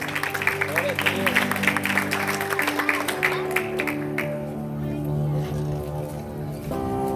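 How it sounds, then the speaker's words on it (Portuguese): A church congregation claps for the name of Jesus, a busy spell of applause over sustained organ-like tones that thins and fades midway, leaving the held notes and a voice. "Aplauda o nome de Jesus."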